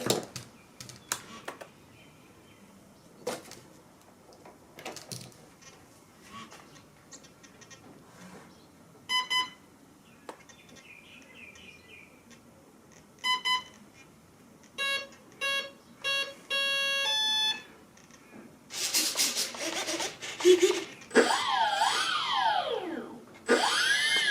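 An RC electronic speed controller on a Phoenix build gives short electronic beeps during calibration, scattered among quiet clicks and handling noise, then builds into longer tones and rising, sweeping motor whines toward the end.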